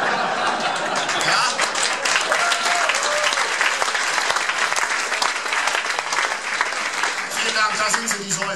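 Sustained, dense applause from an audience at a stand-up comedy show in Stuttgart, loud and continuous throughout with a few voices mixed in.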